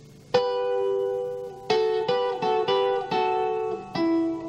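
A guitar plays a short passage of plucked two-note intervals in thirds: one ringing chord, then a quicker run of several more, clear and close.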